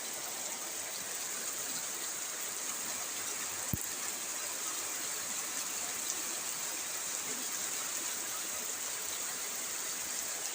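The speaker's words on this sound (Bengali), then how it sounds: "প্রচুর বৃষ্টি হচ্ছে আমাদের এখানে।" Heavy rain pours down outdoors as a dense, even hiss that holds steady throughout, with one brief sharp tap partway through.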